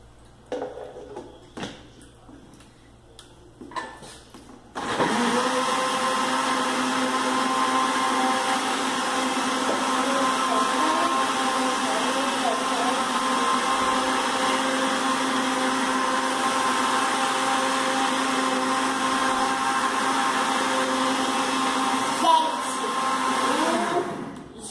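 A blender mixing pudding batter with flour, lid on, whirs loudly and steadily for about twenty seconds after a few clattering knocks, its motor tone holding even before cutting out.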